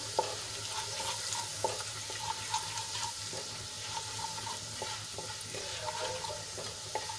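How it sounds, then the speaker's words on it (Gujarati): Gram flour sautéing in a ginger, garlic and chilli paste gives a steady soft sizzle, with light scraping taps from stirring recurring every second or so, close and alone with no talk. "ચણાનો લોટ થોડોક સંતળાઈ ગયો છે"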